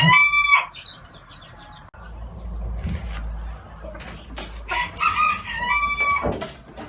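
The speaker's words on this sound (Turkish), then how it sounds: "Bu denizli kırması. Gülen horoz." A Denizli rooster, a Turkish long-crowing breed, crows in long, drawn-out calls, with hens clucking nearby in the pauses between crows.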